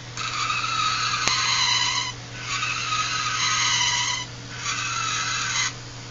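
A fischertechnik TXT robot's motors give three close, sustained whining screeches as it brakes, separated by short gaps over a steady low hum.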